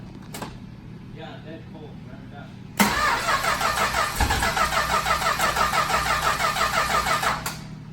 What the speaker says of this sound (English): Give it a good rev if it'll run.